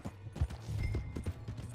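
Horse hooves clip-clop at a brisk, uneven pace in the video game Red Dead Redemption 2, close and moderately loud with a faint background bed.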